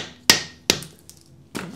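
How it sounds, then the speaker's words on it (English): Three sharp, close metallic taps seat a spring force bolt hanger into place, evenly spaced with quick decays and a short ringing tail, no talk. "tapping it into place"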